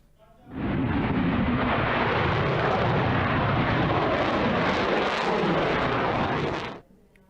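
A Ghaznavi surface-to-surface ballistic missile launching in a Pakistani army training exercise gives a loud, rushing roar that swells in within a second and holds for about six seconds before dropping away. No one speaks.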